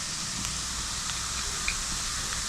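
Onions and salt sautéing in a pan, a steady close sizzle with soft crackles and faint stirring ticks, alone without voices.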